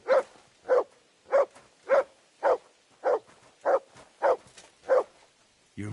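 A dog in the medieval game Kingdom Come: Deliverance II barks in a steady run of about ten evenly spaced, close, loud woofs, with nothing else around them.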